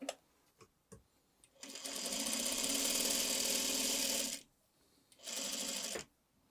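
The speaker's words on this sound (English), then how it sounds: "I will put it right sides together and sew the 2 strings directly onto my foundation" A sewing machine stitches fabric strings onto a quilt block foundation in two bursts, a long steady run and then a shorter one, with rapid mechanical chatter close by and a few quiet clicks before it starts.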